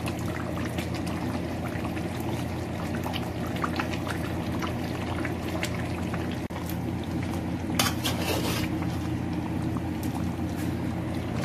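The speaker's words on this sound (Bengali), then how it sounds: "সো আমার হাজবেন্ড এখন দিয়ে দিচ্ছে 1 কাপ গরম পানি" A cup of hot water poured into a pot of chicken curry with raw papaya, a steady close liquid pour and bubbling that fills the whole stretch, with a brief splashy burst near the end.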